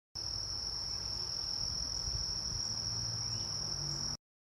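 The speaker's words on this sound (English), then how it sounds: "Cicadas are also some of the loudest broods of insects in the world" A steady, high-pitched drone of a periodical cicada chorus buzzes without pause for about four seconds, loud and unbroken over a low rumble.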